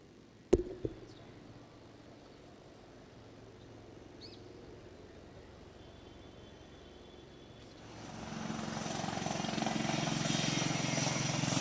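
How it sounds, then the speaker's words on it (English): An Advanced Light Helicopter performs at a Navy Day Beating Retreat and Tattoo ceremony at the Gateway of India, its rotor and engine noise swelling from faint ambience into a loud, sustained roar as it approaches. "We shall now witness a spectacular simulation by the daring Advanced Light Helicopter."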